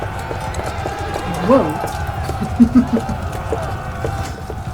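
Horses gallop in the medieval strategy game In The Name Of Jerusalem II, a steady patter of hoofbeats with a few louder thumps, heard beneath someone talking excitedly.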